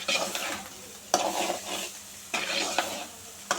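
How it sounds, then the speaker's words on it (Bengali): Bitter gourd slices frying in a pan with a sprinkle of salt, stirred with a utensil: steady close sizzle broken by several sharp scrapes and clinks of metal against the pan. "ভালো করে মিশিয়ে নিতে হবে লবণটা, যেন সব জায়গায় পড়ে।"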